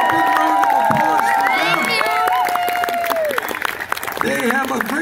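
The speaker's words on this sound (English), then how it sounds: "Let's have a big round of applause." Audience applause and cheering at an evening gathering honoring venue hosts, crowd clapping and whoops rising under overlapping voices and shouts, loud and close.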